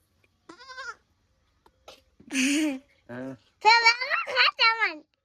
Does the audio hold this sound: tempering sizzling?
no